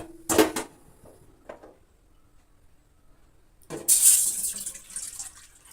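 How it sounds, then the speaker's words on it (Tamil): Water splashes briefly, pauses, then a louder rush of a cup of water pouring into a pot runs for a couple of seconds nearby. "நான் ஒரு கப் தண்ணி சேர்த்துருக்கேன்"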